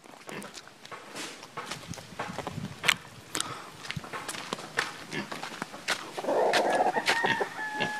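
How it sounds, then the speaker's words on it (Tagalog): Chickens cluck nearby while a rooster crows near the end, with rustling footsteps and a person talking intermittently. "Yung manok ko sa bubungan."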